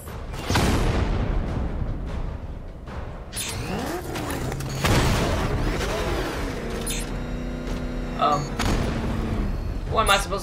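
Heavy booming gunfire and mechanical clanks from the Batmobile in the video game Batman Arkham Knight, loud bursts scattered across the scene with voices and game sounds underneath.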